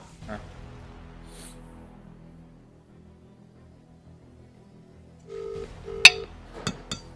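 A short run of electronic phone keypad tones near the end, a few quick beeps and a longer tone after a quiet stretch with faint background sounds.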